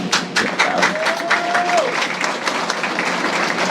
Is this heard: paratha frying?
no